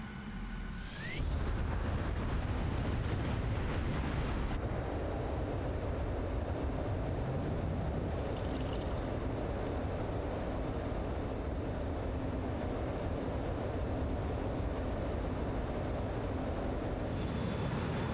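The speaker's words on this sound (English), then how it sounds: "here we are in the F-15E, and as you can see, it is fully loaded. And we are down at low level" Fully loaded F-15E jet flying low in Microsoft Flight Simulator: a steady, loud, broadband engine roar that swells in after a brief rising whine and holds constant for the rest of the clip, with no talk.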